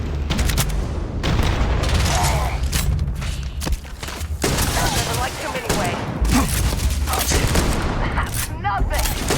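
Heavy gunfire from a hard-hitting two-shot gun in the video game Starfield booms in loud repeated blasts with crackling combat effects, and a voice talks at times between the shots.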